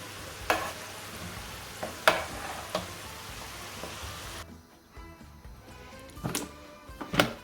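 Almonds fry in melted butter in a pan, a soft continuous sizzle broken by sharp scraping stirs, with a quieter stretch midway before more stirring clatters.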